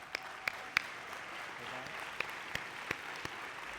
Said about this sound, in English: would like to give him a round of applause